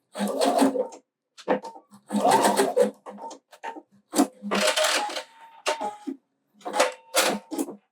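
A sewing machine stitches a backpack in short, close bursts of whirring, stopping and starting repeatedly with brief gaps of silence in between.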